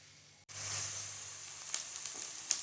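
Medium onion cut into cubes drops into hot oil in a pan and starts a steady sizzle after a brief quiet moment, with a few small pops and crackles, close and fairly soft, no talking.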